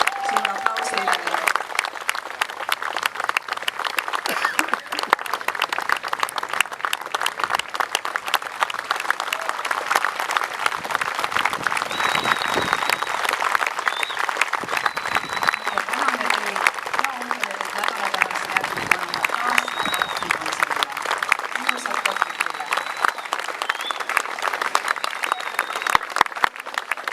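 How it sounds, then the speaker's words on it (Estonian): An audience gives long, steady applause for a folk dance group, dense clapping that carries on for nearly half a minute, moderately loud, with occasional voices and faint tones in the background. "suur aplaus teile"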